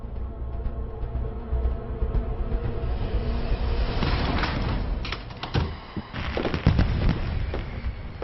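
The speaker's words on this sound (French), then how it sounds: "Ils se rapprochent, ils ont des grenades flash." Flash grenades go off in a crime reenactment, a dense run of sharp cracks and bangs over a constant rumbling din, with several loud bursts clustered toward the end.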